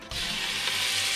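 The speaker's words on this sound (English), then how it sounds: "We got our pound of bacon, cut in a little bitty quarter inch pieces. You want to place it in your cast iron pot" Quarter-inch pieces of bacon sizzling in a cast iron pot, a steady bright hiss of frying fat that starts abruptly and holds evenly, close and loud, with no voices.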